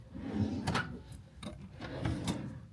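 Drawers in a cruise ship balcony cabin on Quantum of the Seas slide open and shut, giving a few close wooden rumbles and light thumps in a quiet room with no talk.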